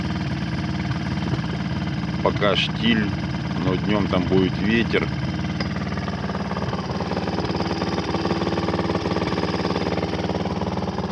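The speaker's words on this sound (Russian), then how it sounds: "пока греет двигатель" Boat motor idling on the water while warming up before a pike fishing trip, a steady close mechanical drone with someone speaking briefly over it.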